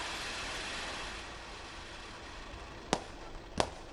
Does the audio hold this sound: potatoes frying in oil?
no